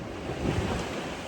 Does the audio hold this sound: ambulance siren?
no